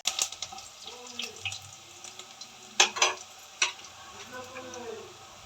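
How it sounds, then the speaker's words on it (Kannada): Sprouted horse gram with onion frying in a pan, with a soft background sizzle broken by several sharp stirring scrapes and clinks that rise to louder hits in the second half; no one talks. "ಇದು ಹಸಿ ವಾಸನೆ ಹೋಗೋವರೆಗೂ ನಾವು ಸ್ವಲ್ಪ ಫ್ರೈ ಮಾಡ್ಕೋಬೇಕು"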